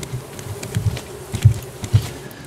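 Bees in the survival video game Raft buzz softly and steadily, with faint low thumps pulsing underneath, no voices over them.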